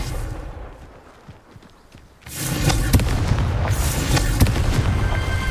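A Confringo blast spell from the Hogwarts Legacy video game erupts as a loud, booming explosion that swells suddenly out of quieter background rumble and keeps roaring with crackling bursts to the end.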